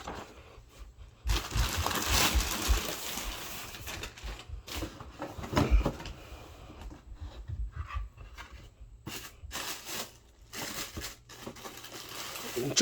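Plastic and cardboard packaging for a pair of Clarks Wallabee shoes in green camo is ripped and crinkled open in repeated scratchy bursts, close and moderately loud, with a person talking between the sounds.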